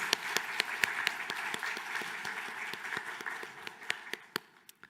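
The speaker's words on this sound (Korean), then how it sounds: "하나님께 감사와 영광의 박수를 올려드리겠습니다" A church congregation claps together during a Sunday service, a steady, dense round of applause that holds for several seconds and thins out toward the end, with no voices over it.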